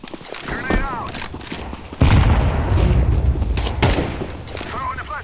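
A Counter-Strike 2 grenade blast: a deep, loud boom bursts in about two seconds in, rumbling among scattered gunfire and game effects, while a voice talks over the action.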